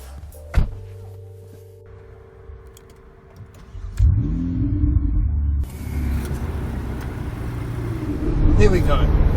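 A 2016 Ferrari 488 GTB with a 3.9-litre twin-turbo V8 rated at 670 horsepower starts with a thump and quiet murmur, then a loud, steady engine rumble builds and rises as the car pulls away.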